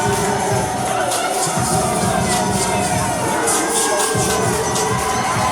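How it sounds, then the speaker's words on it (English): Wrestling crowd at a Ring Wars Carolina show giving a loud, sustained ovation: dense cheering and shouting with bursts of higher-pitched yells, filling the arena continuously. "thunderous ovation."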